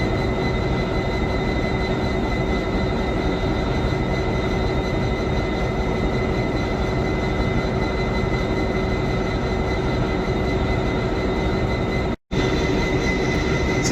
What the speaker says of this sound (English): this is the locomotive that's going to pull us down to Mallow